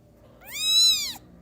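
A kitten named Argyle lets out a single loud, drawn-out meow, close and rising then falling over about a second, with no talking.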